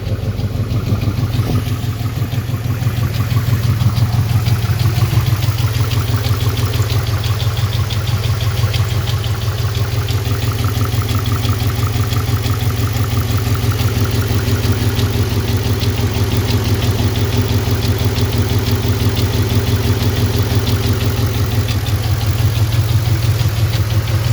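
Idling car engine with a lifter tick on cylinder number 4, a steady loud low rumble with a fast, even ticking running through it the whole time.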